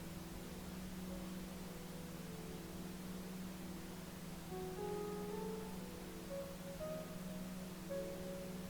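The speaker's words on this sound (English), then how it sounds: "I welcome the calming effect of pink noise on my entire nervous system." Steady pink noise ambience with a low constant hum underneath, soft and continuous, with faint tonal shimmer drifting in over the wash.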